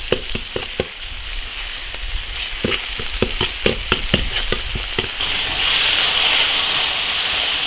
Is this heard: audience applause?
no